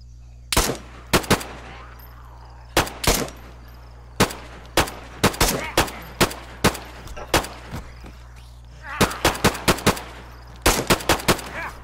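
Rapid gunfire in a military combat game, loud, sharp shots fired singly and in short bursts at an irregular rhythm, close by, with no talking.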